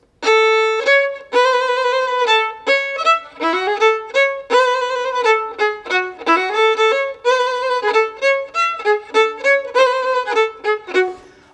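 A bright reedy folk melody with rapid half-step trills alternating between neighbouring notes, played loud and continuous with short phrase breaks.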